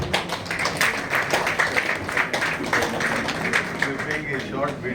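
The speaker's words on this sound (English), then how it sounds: "Please give a huge round of applause for sir." Guests at an Indian Medical Association Doctors Day celebration in a hotel clap in a crisp, close burst of applause, with sharp individual claps standing out over a murmur of voices.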